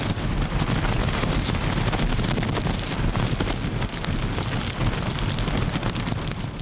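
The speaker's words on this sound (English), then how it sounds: "the seas at Heng Fa Chun were very rough as waves kept smashing against the seawall" During Typhoon Wipha at Heng Fa Chuen, Hong Kong, rough waves crash against a seawall amid heavy rain and gusting wind, a loud, dense, continuous roar with no clear gaps.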